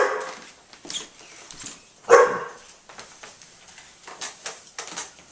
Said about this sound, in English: Please forgive my dog.